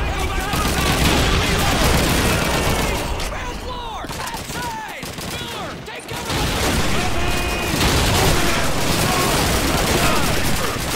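Sustained automatic gunfire from an MG-42 machine gun in Call of Duty 2's American campaign, loud and continuous with dense bursts throughout, under shouting voices.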